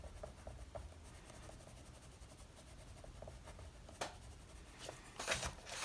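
Colored pencil laid over dried paint on paper, scratching in soft, steady strokes close by, with a few sharper rubbing bursts near the end.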